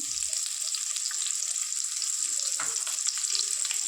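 A small chopped onion frying in oil in a pan while making egg gravy, a steady close sizzle with light crackle and occasional soft stirring scrapes, no voices.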